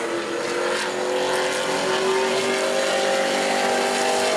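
Sportsman race car number 12, driven by Danny Fry, on a qualifying lap at New Smyrna, running down the front straightaway: a loud, sustained engine roar that holds steady throughout with a rising tone near the end.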